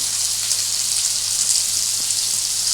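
Butter-basted barbecue chicken sizzles steadily in a hot pan, a close, even hiss of frying that holds without pause and with no one talking.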